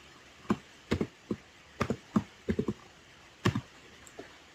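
Keys on a computer keyboard tap in scattered, irregular clicks while a command is entered into an interactive Node.js session, ending with a firmer press of the enter key, close and fairly quiet with no talking.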